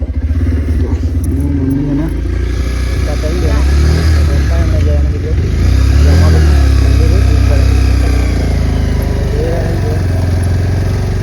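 A motorbike engine runs steadily and loud at close range, its low, even rumble continuous throughout while people talk over it.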